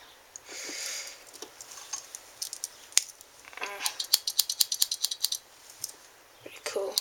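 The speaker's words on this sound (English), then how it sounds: "There's scissors next." Small scissors on a Victorinox Swiss Champ Plus pocket knife are opened and worked, giving close, crisp metallic snips and clicks that come in bursts and speed into a quick run of rapid snips near the end.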